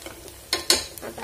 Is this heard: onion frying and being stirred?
yes